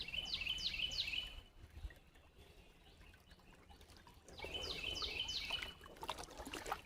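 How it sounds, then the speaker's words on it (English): Birdsong in woods near artesian springs in Prattville, Alabama, in repeated bursts of short descending chirps at the start and again near the end, over a steady background trickle of running water. "I love the sound of the birds"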